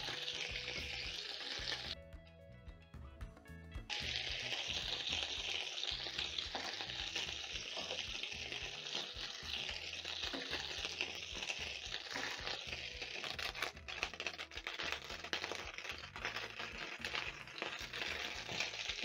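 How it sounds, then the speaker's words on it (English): Meatballs frying in a pan for a spicy homemade recipe, a steady close sizzle and crackle of hot oil running throughout, briefly dipping early before resuming at full strength, with no talking. "repeat by cooking the meatballs a minute per side so that they can cook on the inside"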